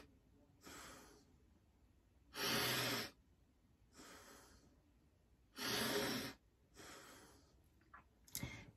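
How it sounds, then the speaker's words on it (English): A person with chronic lung disease doing deep, slow breaths in through the nose, five or so separate breathy inhalations and exhalations in a steady rhythm, close and quiet with no talking. "Then just deep breathing in my nose."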